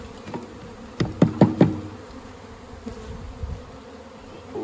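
Honey bees buzzing in a hive as they are knocked down into a box, a steady close drone broken by three quick hard knocks.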